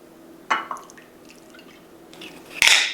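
Light soy sauce and Shaoxing wine pour into a tablespoon, giving small splashy drips and trickles with a brighter liquid splash near the end, close and quiet against a faint background.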